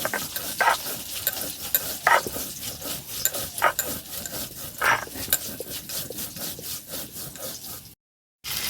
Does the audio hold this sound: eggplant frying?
yes